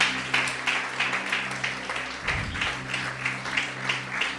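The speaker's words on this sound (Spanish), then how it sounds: "Aplaude, aplaude, aplaude, aplaude, aplaude." A church congregation claps steadily in rhythm during a Spanish-language worship service, the applause carrying under a low sustained musical drone with a brief rumble partway through.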